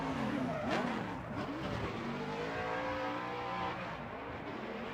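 Vaughn Gittin Jr.'s Ford Mustang drift car at Formula Drift Las Vegas, engine roaring and tires squealing as it slides through the course, loud and sustained with a wavering pitch.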